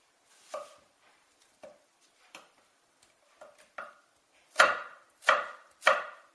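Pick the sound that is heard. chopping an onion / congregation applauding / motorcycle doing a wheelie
chopping an onion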